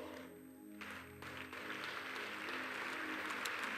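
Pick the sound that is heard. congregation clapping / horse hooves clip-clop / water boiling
congregation clapping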